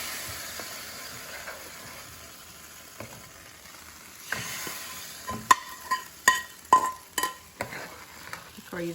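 Curry leaves cooking in a pan of winter melon morkozhambu give a steady low sizzle and fry hiss, then several sharp clinks and scrapes of a utensil against the pan near the end.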